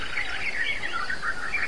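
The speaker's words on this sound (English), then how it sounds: "If these birds would shut the hell up." Birds chirp continuously in the ambient soundscape of the video game Ancestors: The Humankind Odyssey, a steady layer of overlapping tweets and calls at moderate level with no other sound.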